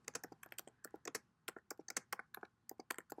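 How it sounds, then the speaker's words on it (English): Close, quiet typing on a computer keyboard, a quick irregular run of crisp key clicks with brief pauses and no speech. "I've noticed how annoying the typing sounds."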